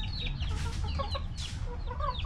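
Backyard chickens, among them four-to-five-month-old stags, cluck and call close by in a few quick bursts over a steady low background hum, with no talk.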